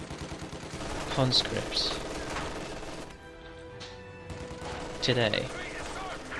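Machine gun fire in Company of Heroes 2, a German MG crew firing to suppress Soviet conscripts, comes in moderate bursts beneath ongoing battle noise, with someone talking over much of it.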